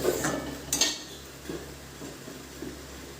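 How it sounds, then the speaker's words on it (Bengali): Fried lentil bori dropped into a cooking pan, a few sharp clinks and scrapes of a utensil against the metal, close and fairly quiet, followed by softer taps. "এবার ভেজে রাখা বড়িগুলো দিয়ে দেবো।"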